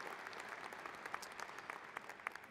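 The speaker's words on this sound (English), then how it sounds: "another round of applause for the great faculty and staff we have at Washington State." Audience applause at a Washington State University fall commencement ceremony, a dense steady wash of many hands clapping with a few sharper individual claps standing out, continuous and moderately loud throughout.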